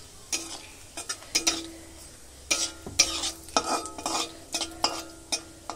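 Dried red chillies frying in a pan with a spoon stirring, giving a steady low sizzle broken by frequent scraping and clinking strokes of irregular rhythm, close and clear with no talking.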